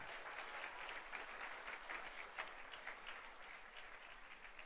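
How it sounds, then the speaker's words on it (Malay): An audience claps in a continuous, even round of applause throughout, heard at a distance and fairly soft, with no voices rising above it. "Tepukan dulu untuk kita semua."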